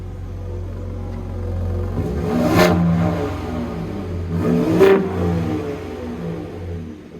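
A 2021 third-generation Ford Raptor pickup engine idles with a low, muted rumble in quiet exhaust mode, then revs twice in quick blips before settling back; the exhaust stays subdued throughout.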